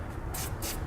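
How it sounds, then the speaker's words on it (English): Two short hisses of spray lubricant hitting a rubber exhaust hanger under a 2015 Jeep Patriot, close and fairly quiet over faint background noise. "I'm just going to take a little bit of spray lubricant and spray the hanger down"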